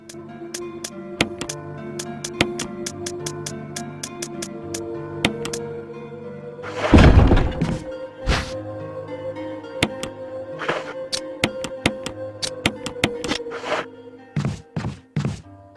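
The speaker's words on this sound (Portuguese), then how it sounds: "O barulho irritante dos zumbis, cada passo deles sendo representado de uma forma quase que caricata" Caricatured zombie footsteps in the video game Resident Evil 1, a steady series of sharp thuds and taps, with one heavy thump midway and a quick cluster of louder steps at the end.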